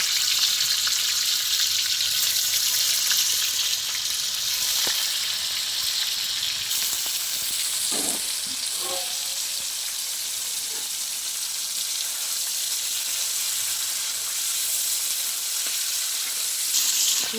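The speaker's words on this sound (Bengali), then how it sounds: "এবার আমি পনিরগুলোকে একটু হালকা করে ভেজে নেব" Steady, loud sizzling of paneer frying in hot oil, continuing throughout with occasional soft stirring clicks.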